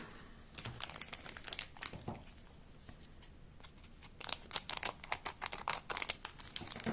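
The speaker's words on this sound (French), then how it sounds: "je vais essayer d'en ouvrir un propre si je peux pour le garder" Japanese One Piece trading card booster packs from a Paramount War display being torn open by hand, with close, loud bursts of crinkling and ripping foil wrapper in irregular clusters and no talking.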